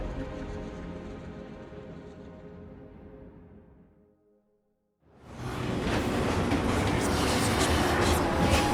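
Train riding on rails in the Final Fantasy VII Remake video game: a steady rumble that fades into near silence around the middle, then returns as a loud, dense rushing roar filling the rest.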